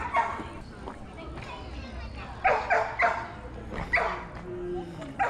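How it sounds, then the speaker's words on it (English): A dog barks repeatedly in an outdoor park, sharp bow-wow yips coming in bursts over steady background noise, while someone speaks nearby. "The dog's barking that way."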